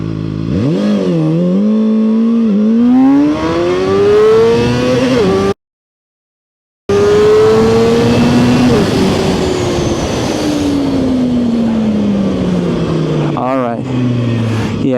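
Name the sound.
ZXJC 500RR motorcycle launching and accelerating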